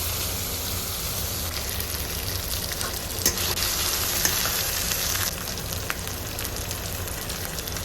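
A large cut potato sautéing with chillies in hot oil in a pan for a Bengali shole fish curry, giving a loud, continuous hissing sizzle with occasional stirring knocks, no voices.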